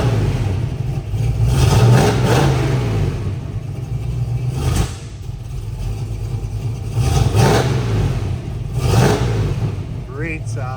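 A freshly tuned 1967 Chevy II Nova with a 350 V8 crate motor idles with a deep, rumbling burble nearby, rising in a few brief revs.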